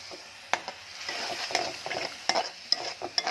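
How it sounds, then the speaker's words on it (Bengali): Cauliflower frying in a pan in a home kitchen, with a soft continuous sizzle broken by repeated close clinks and scrapes of a spatula stirring against the pan, heard alone without speech. "ফুলকপিটা ভাজছি"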